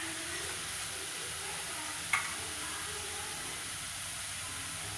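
Omapodi sev dough frying in hot oil gives a steady, even sizzle and bubbling hiss throughout, with one brief sharp crackle midway and no talking.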